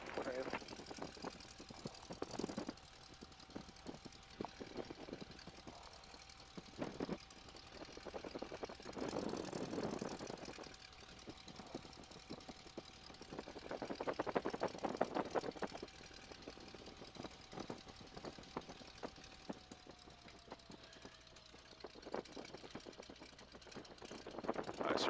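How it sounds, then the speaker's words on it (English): A Stearman biplane's radial engine runs steadily while the plane holds short of the runway for its pre-takeoff engine check, a continuous distant drone with faint power surges, under occasional quiet talk. "And then we will check our engine."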